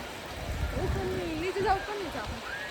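Steady rain pours on a hill station slope, a dense, even wash of falling water heard close by, while someone talks over it throughout.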